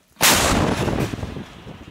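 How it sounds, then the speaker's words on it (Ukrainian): A single howitzer artillery shot fires close by, a sudden massive blast that rolls into a long rumbling decay lasting over a second. "Постріл!"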